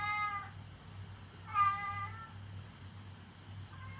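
A cat lets out two drawn-out, tonal meows, one at the start and a longer one in the middle, close and fairly faint over a steady low hum.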